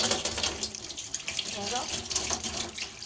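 Wheat flour dough being washed by hand under a running tap at a sink, the steady splash and trickle of water continuous and close, with faint voices in the background.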